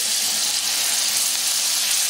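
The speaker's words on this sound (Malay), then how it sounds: "tuang santan pekat." Thick coconut milk poured into a hot pan of mackerel tuna curry, giving a steady, close sizzling hiss with faint bubbling throughout, no voices.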